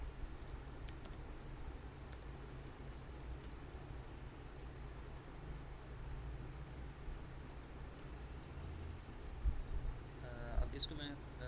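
Soft, steady keyboard typing as web front-end code is entered on a computer, the clicks quiet and continuous under faint background talk.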